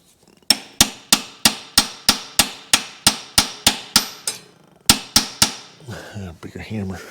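Sharp, ringing metal hammer strikes on a Subaru WRX transmission land in a steady rhythm, about a dozen in a row, a brief pause, then a few more before a voice speaks.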